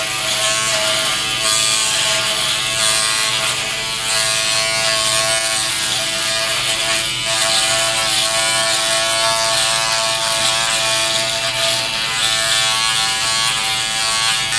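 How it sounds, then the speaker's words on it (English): Manscaped Lawn Mower 5.0 Pro Ultra shaver head trimming chest hair, giving a continuous close, bright electric buzz with slight pitch wobble as it moves across the skin, with no one talking. "It's a lot noisier, the shaver head is."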